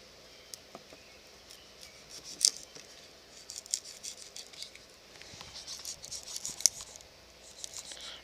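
A stick is cut and whittled with a big oversized knife, giving faint, close scraping and sharp snipping clicks scattered irregularly over a quiet background.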